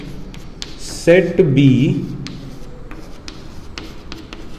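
Marker or chalk writing on a board or paper during a Class 9 maths lesson on sets: faint scratchy strokes running under a teacher's steady talking.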